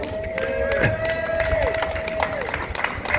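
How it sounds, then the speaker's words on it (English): Outdoor crowd at a night street gathering for homeless people in Liverpool clapping and cheering, a loose burst of applause with voices and a sustained tone running through it. "Give yourself a round of applause."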